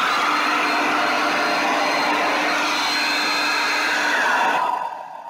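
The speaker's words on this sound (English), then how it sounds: "I'm going to blow it over with my hair dryer so it might get loud" A hair dryer blows steadily over a Dutch acrylic paint pour, a loud, close, continuous airy roar that holds for about five seconds before dropping away at the end.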